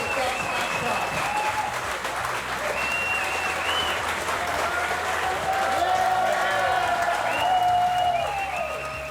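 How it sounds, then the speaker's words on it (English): Crowd applause and cheering for the US1 team winning the Dutch Match Cup sailing match-race event, a steady, dense roar of clapping lasting throughout with voices mixed in. "a big round of applause for US1 Canfield, winner to the Dutch Match Cup"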